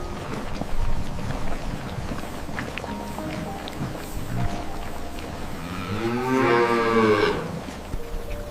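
Wagyu cattle on a Japanese farm give a long, loud moo toward the end, rising over a background of shuffling movement and low rumble.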